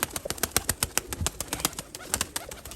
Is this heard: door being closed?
no